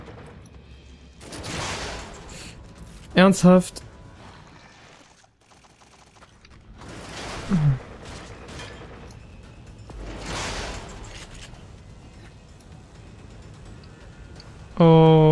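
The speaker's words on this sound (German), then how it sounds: "Wieso haben wir denn genau gegen die Tür geschossen" Bursts of gunfire in the video game The Evil Within, a few sharp volleys fired at a door separated by pauses, with a voice speaking over the action.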